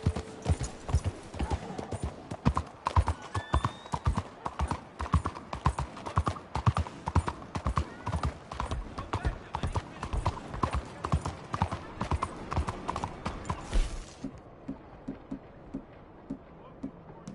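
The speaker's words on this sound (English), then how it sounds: "Fine horse there." Horse hooves clip-clop steadily in Red Dead Redemption 2, a brisk rhythmic trot close by that runs for most of the stretch before stopping abruptly, leaving quieter ambience with a few faint thuds.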